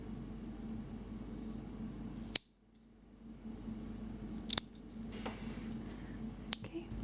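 Scissors snip away leftover yarn from a crocheted shamrock, giving three sharp, isolated cuts over a steady low hum, with no talking.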